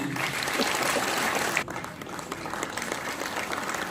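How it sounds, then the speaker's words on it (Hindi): A hall audience at a government portal launch in Srinagar claps loudly and continuously, the dense applause dipping briefly midway and then carrying on at a slightly lower level. "आपकी जोरदार तालियों के बीच"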